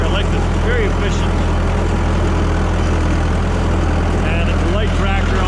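A small white tractor runs close by with a loud, constant low engine drone, someone talking over the noise throughout.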